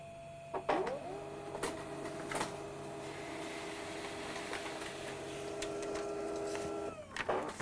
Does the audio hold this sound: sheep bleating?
no